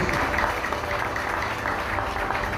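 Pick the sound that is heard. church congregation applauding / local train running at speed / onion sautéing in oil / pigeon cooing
church congregation applauding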